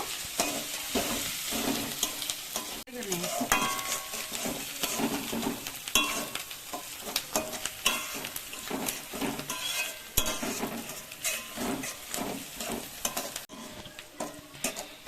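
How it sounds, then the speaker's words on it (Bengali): Onions frying in oil in a pan, stirred steadily with a utensil, giving continuous sizzling with frequent scraping and light clinks close by, no voices. "পেঁয়াজটাকে আমরা লাল লাল করে ভেজে নেব।"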